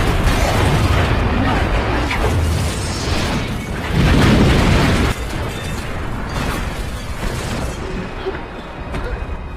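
A loud, sustained explosion with rumbling booms destroys a minimarket in the film The Mariner, a dense roar that swells around the middle.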